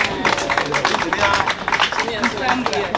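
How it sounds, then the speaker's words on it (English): Audience at a utility's smart and prepaid metering launch event giving a round of applause, a busy patter of clapping mixed with crowd noise and a voice talking. "Let's give a round of applause."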